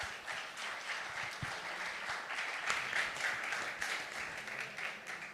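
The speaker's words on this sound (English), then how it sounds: "Applause for you." Steady applause from a conference audience at an energy boat challenge tech talk, dense and even clapping with a slight swell midway, heard from a moderate distance without speech.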